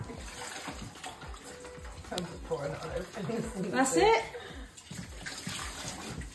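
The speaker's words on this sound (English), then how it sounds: "now rinse it off with more water" Running water splashes and trickles as meat is rinsed in a kitchen during Caribbean cooking, a steady tap flow with brief louder gushes while people talk over it.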